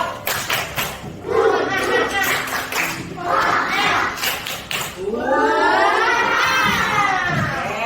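A room of schoolchildren performs a clapping chant, rhythmic hand claps mixed with loud, close group voices that swell near the end.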